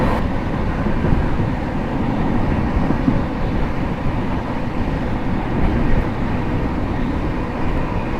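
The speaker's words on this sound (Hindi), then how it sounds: "चलिए दिखाते हैं आपको क्रॉसिंग न्यू दिल्ली सियालदह" Sealdah–New Delhi Rajdhani Express passing at 130 km/h on a crossing, a steady loud continuous rumble and rush of wheels and wind lasting throughout with no break.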